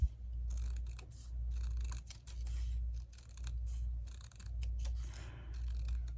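Repeated crisp snips of scissors trimming paper for a scrap journal page, close and clear, in a steady series of cuts with short pauses between them over a low background hum.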